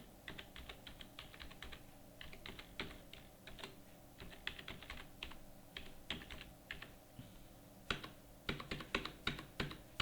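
Steady typing on a computer keyboard while entering an email address into an accounting program, with rapid clustered key clicks in uneven bursts, close and moderately quiet, no talking.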